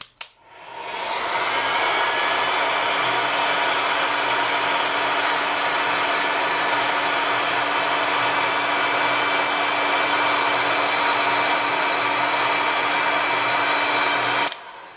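Heat gun blowing over polymer clay, a loud steady whooshing roar that switches on abruptly, holds constant and close for the whole stretch, then cuts off near the end; no talking.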